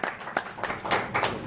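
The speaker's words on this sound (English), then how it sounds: "He deserves a round of applause" A short burst of applause for a contestant at a Guinness World Record periodic table memory attempt, with scattered claps from a small audience at moderate loudness.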